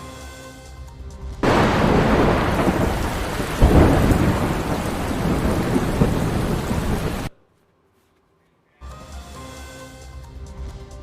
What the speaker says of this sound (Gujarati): તો થઈ રહ્યો છે વરસાદ